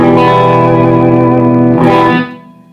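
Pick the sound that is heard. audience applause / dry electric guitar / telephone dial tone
dry electric guitar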